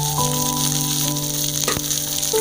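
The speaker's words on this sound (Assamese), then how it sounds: "গোটা জিৰাখিনি ভালদৰে ফুটি উঠাৰ পিছত ইয়াত আমি পিঁয়াজখিনি এড কৰি দিম" Onions go into hot oil with crackling cumin seeds, giving a steady, bright frying sizzle that runs throughout beneath background music.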